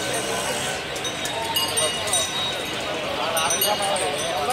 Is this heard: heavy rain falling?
no